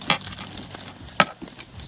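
A set of keys jangles close by while being placed into a new bag, with several quick metallic clinks and a brighter burst near the middle, no talking.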